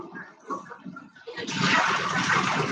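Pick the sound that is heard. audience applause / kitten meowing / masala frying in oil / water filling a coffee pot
water filling a coffee pot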